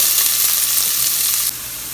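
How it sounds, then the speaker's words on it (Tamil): Onions frying in hot oil with mustard seeds, curry leaves and dried red chillies for a Tamil keerai kootu, giving a loud, steady hiss that drops a little in level partway through, with no voices. "வெங்காயத்தை நல்லா வதக்கிக்கோங்க"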